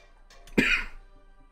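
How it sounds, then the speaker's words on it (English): A single sharp human cough, close and abrupt, with a short throaty tail, set against quiet background. "And I'm coughing again."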